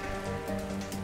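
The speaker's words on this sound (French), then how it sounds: "Dave, il pleut des cordes là." Heavy rain pours down in an even, continuous hiss across the whole short stretch, fairly soft and unbroken, with no voices over it.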